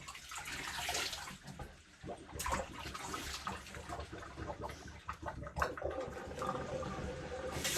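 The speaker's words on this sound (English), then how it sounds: "Rinse off this lather." Water runs and splashes steadily as shaving lather is rinsed off after a shave with a Parker Variant adjustable safety razor, a continuous broadband wash with a few louder splashes and no talking.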